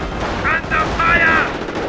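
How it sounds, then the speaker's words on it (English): Dense gunfire in the WWII strategy game Company of Heroes, played on iPad: a short, continuous burst of rapid shots with a shouted, radio-like voice line over the top. "Taking fire from enemy infantry!"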